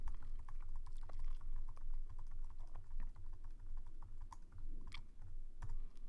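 Quiet keyboard typing, a run of soft irregular key clicks over a low background hum.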